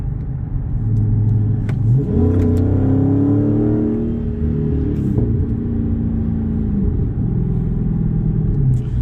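A Ram TRX pickup's exhaust barks into a rising rev, then settles back to a deep, loud rumbling idle at a car meet, with one more brief blip near the end.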